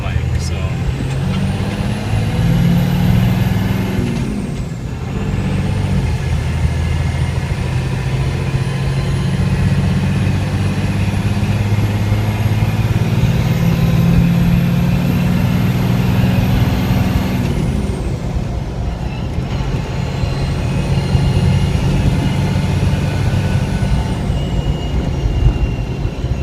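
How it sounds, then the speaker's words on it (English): Cummins 6BT diesel idling in a Land Cruiser FZJ80, a steady loud rumble with a rising and falling turbo whine over it, and a person talking throughout. "hear the diesel engine, and you hear the turbo spool up"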